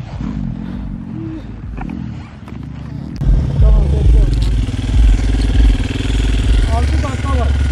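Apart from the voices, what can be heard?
motocross motorcycle engine idling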